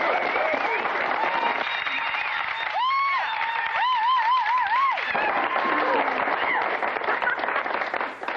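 A studio game-show audience applauds in a steady, dense wash of clapping, while voices and musical tones run over it throughout.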